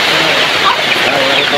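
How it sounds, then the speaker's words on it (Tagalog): Steady, dense hiss of rain pouring down outdoors near a house with a leaking roof, continuous and fairly loud throughout with no breaks. "Umuulan na po."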